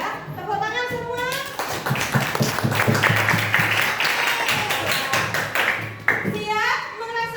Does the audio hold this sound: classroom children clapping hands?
yes